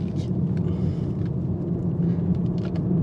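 A 2023 BMW 330Li M-Sport LCI saloon with a 2-litre petrol engine is driven, giving a steady low engine and road rumble from inside the cabin, continuous and fairly loud.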